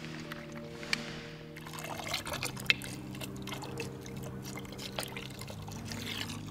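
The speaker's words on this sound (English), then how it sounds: "Next up was giving the vehicle a hand wash." Hand washing a Nissan Skyline R34 with wash detergent, heard as soft pouring, splashing and dripping water close by, with a few sharp clicks and a faint background hum.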